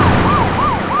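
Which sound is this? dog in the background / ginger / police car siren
police car siren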